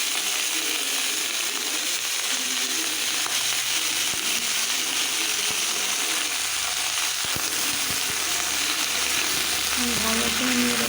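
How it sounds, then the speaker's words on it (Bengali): Onion stalks fry in mustard oil in a wok, giving a continuous sizzle and crackle with occasional scraping and clicking from stirring, steady and close throughout. "তার জন্য আমি কড়াইতে সরিষার তেল দিয়ে দিচ্ছি। এখন পেঁয়াজের কালি দিয়ে দিচ্ছি।"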